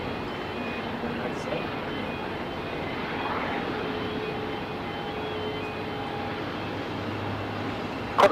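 An Airbus A320 starts up at Melbourne Airport, a steady distant engine whine and hum running under faint background noise, ending with a short louder knock.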